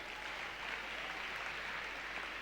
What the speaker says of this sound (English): I want you to clap for yourselves.